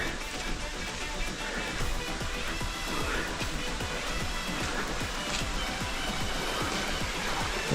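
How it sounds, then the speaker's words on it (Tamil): Water pours steadily from a small waterfall in a Japanese-style garden at Ashok Vatika in Sri Lanka, a dense continuous rushing wash that stays even and close throughout. "water falls"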